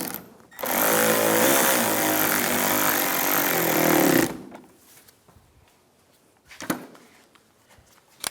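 A power tool runs in one sustained, loud whirring burst of about three and a half seconds while tightening bumper bolts on a 2015-2019 Lincoln MKC, then stops, followed by quieter clinks and one short clatter.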